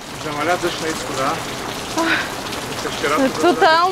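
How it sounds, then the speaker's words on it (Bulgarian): Steady rain falling and pattering at a cave exit along a Greek eco-trail, a broad wet hiss under several people talking close by throughout. "Замаля дъжд на изхода."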